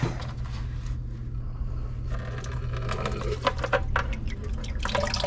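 Water drains from an on-demand water heater being flushed, with a steady, rushing flow and occasional splashes and drips, continuous for the whole stretch with no voices.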